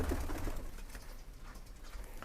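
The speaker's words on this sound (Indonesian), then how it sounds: "Kita coba spill ya merpati JS-nya dan kita bandingkan dengan burung kolong biasa." JS breed pigeons in a coop give soft, low cooing calls, faint and close, against a steady background murmur.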